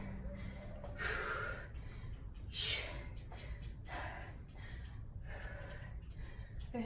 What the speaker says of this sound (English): Is anyone else breathing as hard as me?